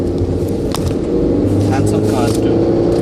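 Cars driving past on a rainy road in Australia, a steady close rumble of engines and wet tyre hiss filling the whole stretch.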